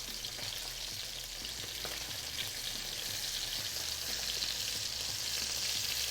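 A piece of food fries in a hot pan after being flipped, giving a steady close sizzle with faint crackles throughout and no talking.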